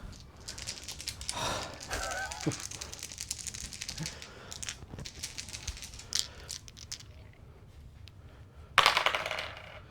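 Four dice clatter and roll across a table in an A Song of Ice and Fire tabletop wargame, a burst of rattling early and another sharp clatter near the end, with scattered table noise between.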